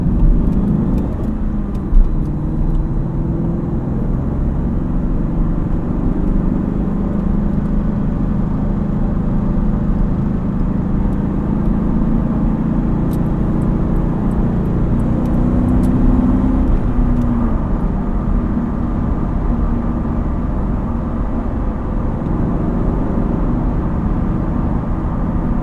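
A big-V8 Corvette cruises on a highway, a steady low engine drone and road rumble heard from inside the car, loud and continuous with no talking.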